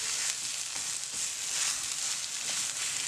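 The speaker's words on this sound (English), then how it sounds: "So now all the dry masalas I have added, fry for 2 minutes" Dry masala spices, including pepper powder, peppercorns and chili powder, sizzle steadily in a hot pan for channa dal gravy, a continuous bright frying hiss with soft stirring scrapes and no talk.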